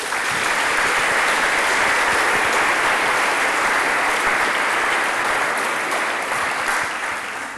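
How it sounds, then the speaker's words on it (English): A large lecture audience breaks into sustained, loud applause, a thick wash of many hands clapping that holds steady and only begins to thin near the end. "let's give them a round of applause"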